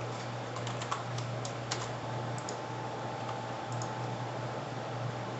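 Someone types an email on a computer keyboard, a quiet run of light, irregular key clicks over a steady background hum, with no voices.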